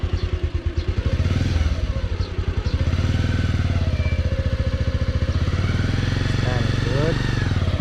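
A small motorcycle idles and putters steadily up close while a beginner learns to ride, the engine chugging throughout with a voice speaking over it.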